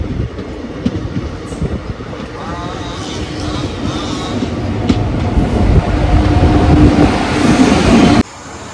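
A sleeper train rolls into Thrissur station in Kerala with a loud, close rumble of wheels, rhythmic clacking and faint squeals that gradually build before cutting off abruptly.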